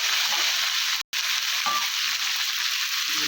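Ground cumin and chili paste frying in a pan for a fish dish, giving a loud, steady, dense sizzle that cuts out for a split second and then resumes unchanged.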